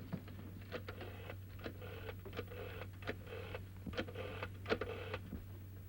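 A rapid series of faint clicking, whirring bursts repeats rhythmically, like an old rotary telephone being dialed, against a low steady hum; a 1930s telephone.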